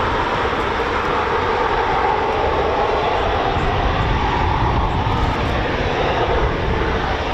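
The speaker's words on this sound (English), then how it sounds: "Typhoon starting up." Jet engine of a Eurofighter Typhoon FGR4 spooling up on the flight line at RAF Coningsby, a loud, steady broadband roar with a high whine that holds continuously and close throughout.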